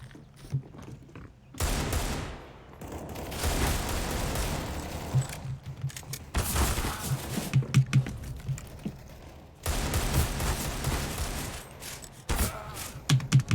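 Gunfire in CS:GO from a weapon with heavy recoil: several sustained bursts of rapid shots separated by brief gaps, fairly loud and dense, with clicky keyboard-like tapping mixed in.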